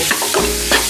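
Marinated soya chaap being stirred in a frying pan with vegetables and spices, a steady sizzle broken by a couple of scraping spoon strokes.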